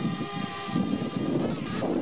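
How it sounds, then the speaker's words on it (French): A DJI Spark drone hovers and flies outdoors in wind, its steady propeller whine and buzz continuous and fairly close, with gusts of wind noise across the microphone. "j'appuie sur le petit bouton décollage et c'est parti, le drone vole"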